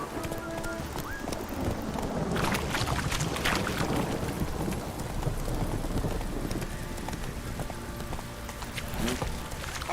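A horse named Roach gallops in The Witcher 3, its hooves clip-clopping in a rapid, steady rhythm over game ambience, with no talk.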